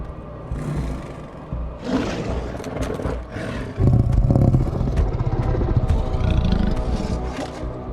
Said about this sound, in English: There's a goddamn zombie tiger.